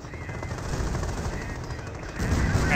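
Rapid machine-gun fire in the World War II strategy game Company of Heroes, a dense rattling burst that swells louder near the end, with a faint voice underneath.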